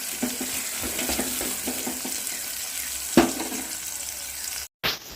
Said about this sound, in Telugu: ఇంక ఇప్పుడైతే ఆనియన్స్ అయితే బాగా ఫ్రై అయిపోతూ ఉన్నాయి అన్నమాట.